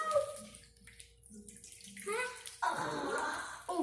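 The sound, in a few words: water splashing while washing hands with water bag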